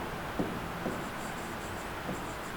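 A teacher writes on paper with a pen or pencil, producing a few faint, brief scratchy strokes spaced apart against a quiet room hiss.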